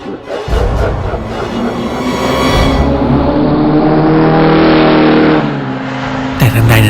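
A car engine revs and drones steadily in a Thai horror audio drama, ending in a sharp brake screech near the close, with a voice over parts of it.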